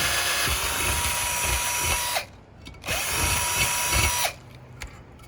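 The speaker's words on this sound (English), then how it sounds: "This is where a good drill bit comes into play." A loud, steady power drill grinding through thick-gauge steel in two long runs, broken by a short pause and ending in sudden quiet.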